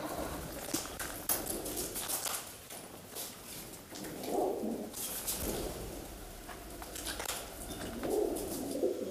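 Pigeons coo in soft repeated bursts inside an old 19th-century manor, a low throaty murmur over faint rustling and room noise, with no one speaking.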